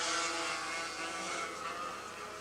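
Two-stroke racing kart engines drone and buzz continuously at a 1979 Bridgestone Pro Kart Series race in Jacksonville. The high, rasping note holds steady at moderate distance, fading slightly toward the end.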